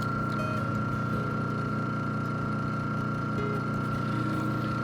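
Electric motor running steadily under load on a tabletop dyno at about 1720 RPM, a constant tonal hum with a strong whine and low mechanical drone, loud and unbroken, no talking.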